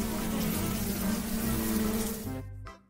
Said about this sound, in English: Hornet.